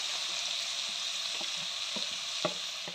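Sliced onions and curry leaves fry in oil in a pan, a dense, even sizzle with a few soft clicks of a stirring spoon toward the end; no one speaks.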